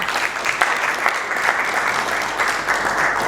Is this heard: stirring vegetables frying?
no